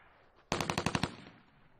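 A short burst of automatic gunfire in a war film, about eight rapid shots in a tight even rhythm that ends abruptly. It is loud and close against a quiet background.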